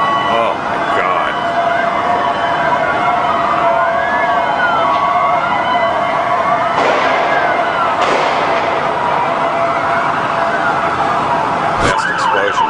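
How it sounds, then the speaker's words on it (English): Police sirens wail near World Trade Center 7, several rising and falling tones overlapping continuously over a loud street background, with brief sharp knocks near the end. "now there's a lot of police activity and sirens and more smoke rising from the ground"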